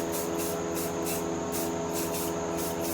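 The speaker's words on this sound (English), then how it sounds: "little itty bitty taps of the spray paint cap" Short taps of a spray paint can cap lay down black paint, giving a series of brief hissing bursts in a quick, regular rhythm, close and steady.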